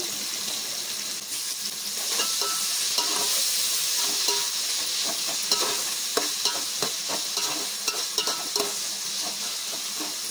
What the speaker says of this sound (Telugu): ఒక టమాటా సన్నం కట్ చేసుకొని వేసేసుకోవాలి